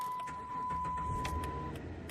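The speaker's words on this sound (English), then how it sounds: "The car starts up." A 2007 Dodge Charger engine cranks and catches, a steady close-up rumble inside the car with a chime tone running through the first part.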